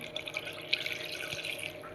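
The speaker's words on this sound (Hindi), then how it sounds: "और ये हम 1 गिलास बड़े गिलास से पानी डाल देंगे।" Faint water trickles and drips splash softly into a cooking pot as water is poured from a large glass, quiet and close, with small irregular splashes.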